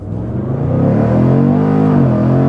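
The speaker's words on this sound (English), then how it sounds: "hold my foot firmly on the brake while giving it full throttle for dynamic launch, letting go of the brake" A 2024 Jaguar F-Pace SVR pulls away under launch control at full throttle, its engine roaring loud and close as the pitch climbs steadily through the run with no gear change.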